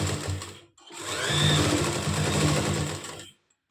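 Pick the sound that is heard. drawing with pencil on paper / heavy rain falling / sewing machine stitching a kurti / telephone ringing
sewing machine stitching a kurti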